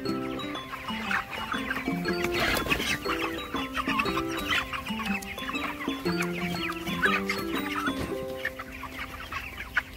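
Chickens on a low-cost poultry farm at night cluck and chatter steadily as grain feed is poured, a busy close flock sound with a brief rustling swell of the feed.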